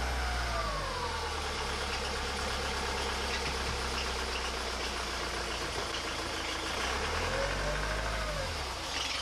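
A Nissan X-Trail T30 with a 2.2 dCi diesel engine idles steadily in a garage, a continuous low rumble with a faint knocking texture that holds even and unbroken throughout.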